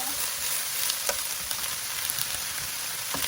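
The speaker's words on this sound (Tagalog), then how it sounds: "So, igigisa ko po ang repolyo." Cabbage sautéing in a hot pan for a budget cabbage pie, giving a steady close sizzle and crackle throughout with occasional brief stirring knocks and no talking.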